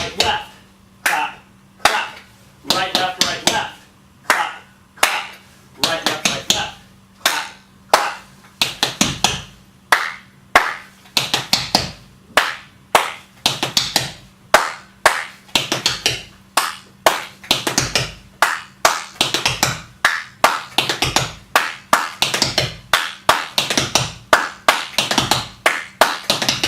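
Rhythmic body-percussion exercise of sharp hand claps mixed with lighter taps, repeating in an even pattern with the tempo gradually building, close and crisp.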